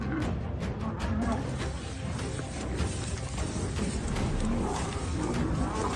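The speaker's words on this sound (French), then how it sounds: "Un rugissement." Male lions on a sun-scorched savanna roar loudly and close, a deep rumbling roar sustained throughout against a dense, noisy outdoor background.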